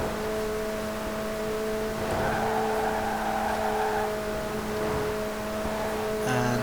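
A 2018 McLaren 720S Coupé in Forza Horizon 4 holds a steady engine drone with sustained tonal harmonics, rising slightly in pitch midway, loud and close with no talk over it.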